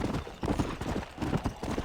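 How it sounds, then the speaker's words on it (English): Horse hooves clip-clop at a steady trotting rhythm in the Red Dead Redemption video game, fairly close and even in level, with no talk over them. "We definitely need to saddle up on this horse."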